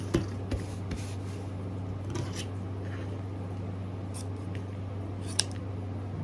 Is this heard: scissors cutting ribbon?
yes